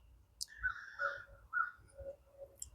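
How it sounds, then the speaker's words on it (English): A crow caws outdoors near a deck, several harsh calls spaced roughly half a second apart, moderately close and clear over a quiet background. "There's a crow cawing."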